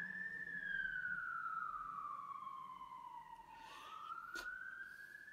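A single emergency siren, as from an ambulance or fire engine, sweeps slowly down and then back up in pitch, steady and moderately loud with no voices.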